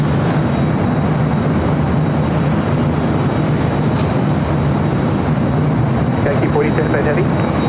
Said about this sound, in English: UPS 757-200 landing on the south side.